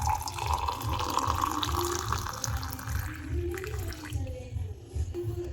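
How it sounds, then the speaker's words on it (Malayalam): Boiling water pours into a glass holding butterfly pea flowers, a steady close splashing stream that thins and trails off toward the end. "ഇതിലേക്ക് തിളച്ച വെള്ളം ഒഴിച്ചു കൊടുക്കാം."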